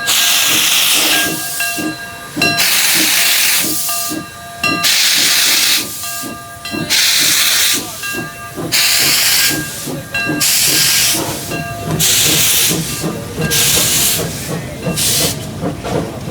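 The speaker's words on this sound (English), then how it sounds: "Then, just like clockwork, number 2 departed, with some insanely cool wheel slip." Steam locomotive number 2 leaves on a loop line at the Hesston Steam Museum. Its wheels slip and give rapid, loud, rhythmic chuffs of hissing exhaust. Sharp whistle tones run through the bursts, and the beat quickens and stutters as the engine gets moving.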